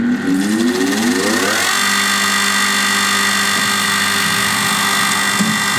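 A Ripper37 sawmill blade sharpener's grinding motor winds up over the first second and a half, then settles into a loud, steady, tonal whir that runs without a break.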